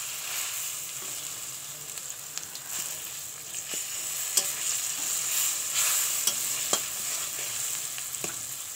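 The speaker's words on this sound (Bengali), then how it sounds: "ভালো করে কড়াই আর তেলের ভিতরে ভালো করে মেখে নিতে হবে পোড়াটাকে।" Roasted eggplant mash fried in oil in a wok with turmeric, stirred steadily: a continuous close sizzle broken by sharp scraping clicks of the spatula every second or so, with no voices.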